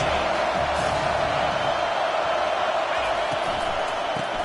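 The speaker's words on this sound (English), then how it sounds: "this crowd is turning it up a notch" A packed Ole Miss football stadium crowd roars on second down, a loud, dense and continuous wall of cheering that holds steady throughout with no gaps.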